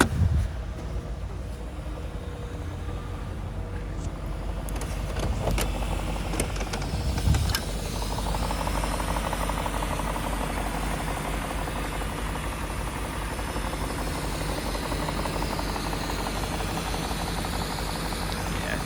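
A BMW E38 740i engine runs at a steady idle after starting, a continuous low rumble heard from inside the car with no talking over it.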